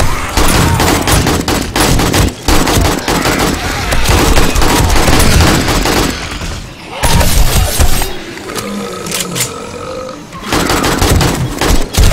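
Rapid, dense shotgun blasts in the survival video game 7 Days to Die, loud and close, firing in near-continuous volleys with a brief lull midway and a voice talking briefly.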